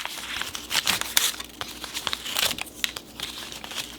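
A plain white paper envelope is torn and opened by hand, with close crinkling, rustling and ripping paper sounds in quick irregular bursts and no talking.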